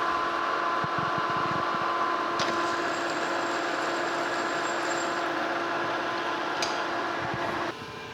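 A metal lathe cuts left-hand threads on a new steel arbor for a General Model 350 table saw, giving a steady mechanical whir and hum with faint ticks, continuous for several seconds before dropping slightly in level near the end.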